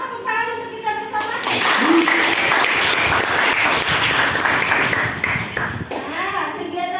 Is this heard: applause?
yes